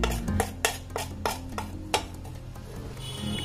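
A spoon scrapes and taps through a soya kebab mixture as chaat masala is worked in, a series of sharp clinks and scrapes in a quick irregular rhythm that thin out toward the end, close up with no talk.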